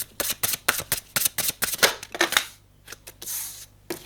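Tarot cards shuffled by hand in quick bursts of crisp riffling slaps, close and clear, with rapid irregular flicks that pause briefly before a few final snaps.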